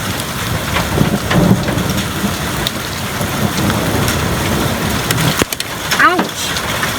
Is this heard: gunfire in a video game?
no